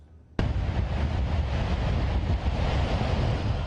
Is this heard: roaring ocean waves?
yes